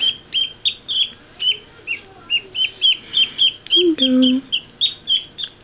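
Small parakeets being hand-fed, giving rapid repeated high chirps in short bursts, close and clear, while a person speaks softly and briefly nearby.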